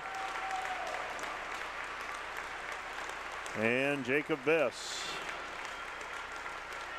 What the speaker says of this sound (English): will check out to a round of applause.